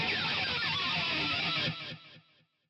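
Distorted electric guitar pick scrape through delay and reverb, a bright sweeping wash that holds for about a second and a half before dropping away in fading echoes.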